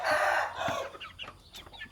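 Thai game fowl chickens of the Thong Ek dark-grey line, some of them suffering from colds, crow and cluck in a lively, close burst of calls with loose scratchy squawks, with no talking.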